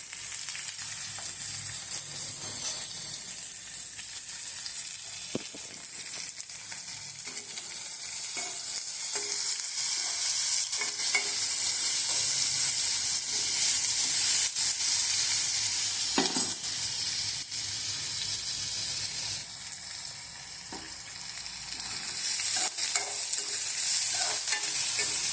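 Chopped onions and green chilies sizzle and fry in hot oil in a pan, a steady crackling hiss with occasional stirring scrapes and no talking.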